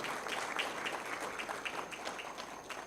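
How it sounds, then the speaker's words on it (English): Applause for the Finance Minister at a government event: a faint, distant patter of individual claps from a modest audience, uneven and sparse, continuing for a few seconds. "a big round of applause for Honorable FM"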